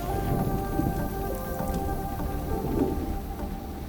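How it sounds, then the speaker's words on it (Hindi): Heavy rain from an approaching storm pours steadily onto surfaces, with low thunder rumbling beneath it. The downpour fills the whole span with a dense, even hiss, and no voices are heard. "ऐसा लग रहा है तूफान आने वाला है बाबूजी।"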